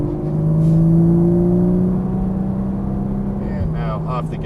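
Exotic sports car accelerating on a race track in Las Vegas, a steady loud engine drone rising in pitch, with an instructor talking over it.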